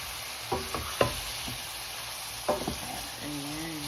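Chicken karahi with onion paste is stirred in a pan, with scattered spoon scrapes and knocks over a steady sizzle of frying.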